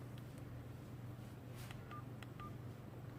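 Keypad tones from a Powertech Sentry 3 PTM-10 phone beep in a few short, quiet dialing tones, one after another, over a low steady background hum.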